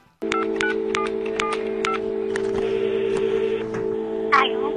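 A telephone call is dialed with a steady, loud tone and a quick run of about eight regular beeps from the keypad, then a few softer clicks and a brief connecting noise, heard alone.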